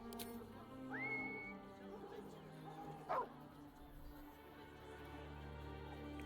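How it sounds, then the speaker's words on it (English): A short rising whistle in Baldur's Gate 3 sounds once over a steady ambient game soundscape, followed by a brief bark-like yelp from a dog. "So let's just whistle for Scratch and see what happens."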